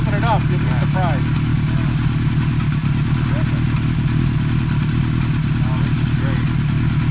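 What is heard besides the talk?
1980 Kawasaki KZ650 motorcycle engine running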